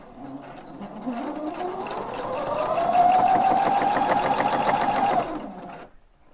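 An Opal 670 sewing machine runs a straight stitch at 2.5 mm stitch length, a steady close mechanical whirr that speeds up with a rising motor pitch, holds fast for a few seconds, then stops.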